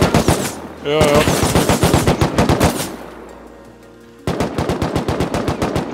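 Rapid bursts of automatic gunfire in the survival game Rust, loud and close, cut by a short pause and a quieter stretch before the shooting resumes, with a brief spoken word.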